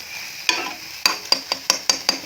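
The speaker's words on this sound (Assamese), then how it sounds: "বাবৰি শাক কণী দি ভাজিখিনি হৈ গ'ল" Babori greens stir-fried with egg in a pan, about seven sharp spatula scrapes and clanks at uneven intervals over a soft sizzle, close and without talk.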